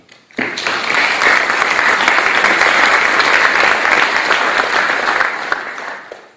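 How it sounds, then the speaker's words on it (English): An audience at a water stewardship symposium in Parksville breaks into sustained applause that begins abruptly, holds steady and loud for several seconds, then tapers off. "They deserve applause for coming."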